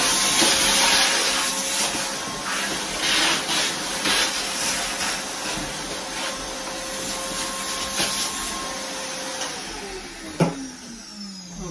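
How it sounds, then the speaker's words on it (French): A vacuum cleaner runs continuously while cleaning the corners of a room during winter house cleaning, a steady whining roar with small shifts in pitch and a brief knock near the end. "L'aspirateur, les coins."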